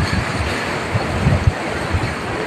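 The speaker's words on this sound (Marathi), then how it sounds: "हे बघा ही मोठी लाट येईल" Ocean surf rolling onto a beach, a continuous close wash of water with wind noise buffeting the microphone and a few small surges.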